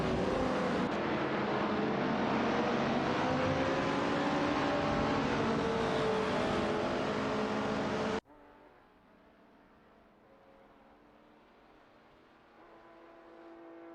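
Race cars in an AI racing video game, among them a Toyota and a Porsche 904, roar loudly with a sustained engine drone for several seconds, then drop abruptly to a much quieter, distant engine hum.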